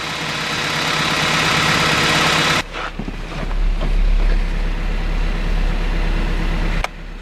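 A Toyota 22RE engine idles steadily with a low, constant rumble, heard close, while wind buffets the microphone loudly throughout and no one speaks.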